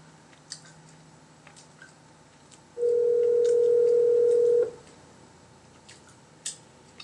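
A telephone dial tone sounds as a steady, loud, continuous tone for about two seconds, with faint room noise and small clicks before and after.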